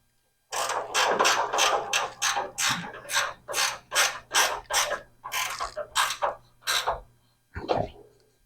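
A ratchet tightens a fender bolt on a 1991 Camaro in a steady run of loud, close clicking bursts, about a dozen strokes in even rhythm, then a brief softer rattle as it stops.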